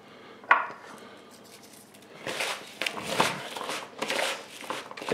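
Pork meatball mixture with salt and pepper is worked around in a bowl, giving soft, irregular squelching and scraping knocks close by at a moderate level.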